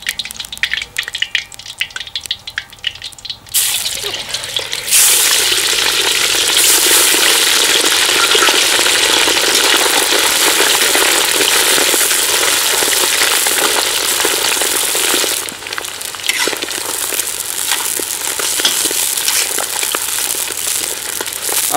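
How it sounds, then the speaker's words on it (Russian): Lamb pieces fry over maximum heat in a kazan on a campfire for Uzbek plov, a loud, close, continuous sizzle that swells in after a quieter opening and holds steady, with no talking. "Обжариваю я на максимальном огне"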